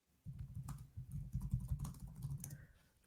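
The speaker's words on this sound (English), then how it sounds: "Hear the keyboard." Fast typing on a computer keyboard, a dense run of quick clicking keystrokes that starts abruptly, stays close and fairly quiet, then trails off.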